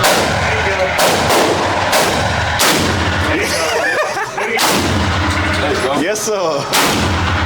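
AR-12 semi-automatic shotgun fired at an outdoor shooting range: a rapid string of loud, close blasts roughly every half to one second, each with a sharp crack and booming tail, with brief talk between shots.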